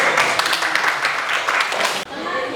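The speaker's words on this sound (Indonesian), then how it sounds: "Kita tepuk tangan." A class applauds after a group presentation, brisk clapping from many students for about two seconds before cutting off as a voice begins to speak.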